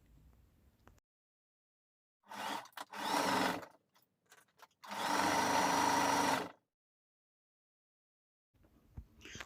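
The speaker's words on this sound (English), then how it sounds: "we're going to sew around the neck opening. Pin it down and then sew it all around." A sewing machine stitches dress lining around a neck opening in a few separate runs, a short burst, then a longer steady whir of about two seconds, close and moderately quiet with silent pauses between.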